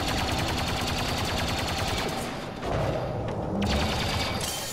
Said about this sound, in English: there was a droid shooting it from over here